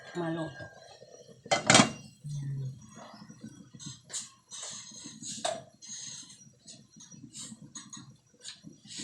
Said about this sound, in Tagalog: Tatakpan ko ulit para yung talong ay maluto.